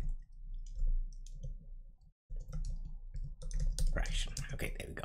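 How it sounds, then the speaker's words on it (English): Close, crisp clicks of typing on a computer keyboard come in short bursts, growing busier toward the end over a low background hum. "let's go ahead and see if I can type this"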